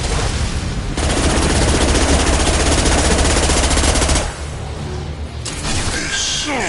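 Sustained automatic gunfire from Mass Effect 2 on PS5 blazes loud and dense for about four seconds, then drops to quieter shots and bursts with swooshing effects near the end.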